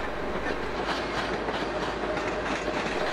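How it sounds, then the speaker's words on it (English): An eight-coach Class 310 electric multiple unit arriving on a semi-fast Birmingham–Euston service, a loud close rumble with rhythmic clickety-clack of wheels over rail joints, continuous and steady. "An alternative semi-fast service between Birmingham and Euston was provided by Class 310 EMUs, as seen here with an arriving 8-coach formation."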